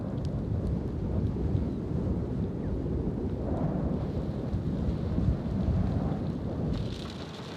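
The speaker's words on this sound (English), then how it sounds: "In the midst of a violent thunderstorm," Violent thunderstorm high on a mountain pass at 3,800 meters during a bike race: steady heavy rain and wind roar with rolling thunder rumbling throughout, loud and close, no voices.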